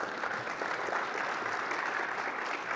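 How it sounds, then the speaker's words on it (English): An audience at a tech conference session applauds, a dense, steady wash of clapping hands that holds at an even level for a few seconds with no voices over it. "Give them one more round of applause."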